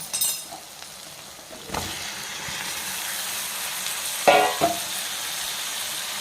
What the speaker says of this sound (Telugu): ఇప్పుడు క్యాలీఫ్లవర్ ముక్కలు వేసుకుందాం.